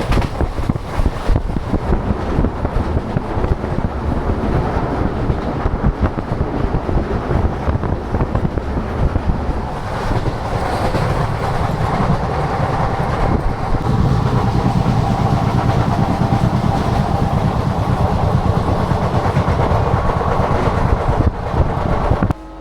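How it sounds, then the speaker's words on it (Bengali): Train riding in from Sealdah to Madhupur Junction in Jharkhand, a loud continuous rumble of rolling wheels and carriage noise with wind buffeting the microphone, steady throughout with no talking. "আমাদের ট্রেন এখন পৌঁছালো ঝাড়খণ্ডের মধুপুর জংশনে"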